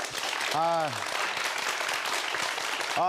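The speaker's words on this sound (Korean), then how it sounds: "우리 대표님을 소개합니다. 박수 한번 부탁드릴게요." Audience applause greeting a company CEO on a youth startup television program, steady crowd clapping throughout with a voice speaking over it.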